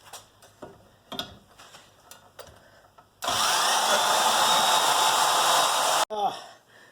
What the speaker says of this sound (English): Cut off the tabs that I don't need off of this nice, beautiful bracket